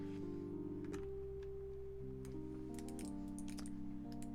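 Typing on a newly built mechanical keyboard: light, scattered key clicks over a steady musical background, with no talk.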